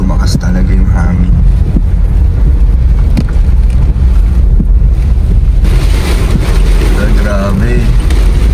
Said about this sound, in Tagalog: Ang lakas na po ng hangin at ng ulan.